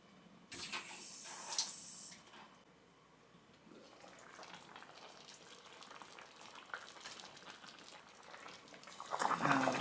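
Nigerian okro soup cooking in a pot, giving a steady soft hiss and sizzle with a louder burst of frying noise near the start and again at the end.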